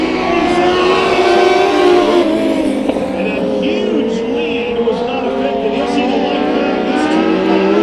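Race cars roar around the Kern County Raceway dirt track during heat races, a loud continuous engine drone with shifting pitch as cars pass, while a commentator talks over it throughout.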